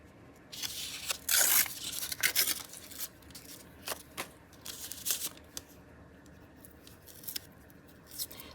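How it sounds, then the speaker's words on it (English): Old paper tearing and crumbling at a craft table while junk journal boards are made, heard as several close, quiet bursts of ripping and crinkling, the strongest early on, then softer scattered tears. "This old paper just disintegrates when you try to tear it."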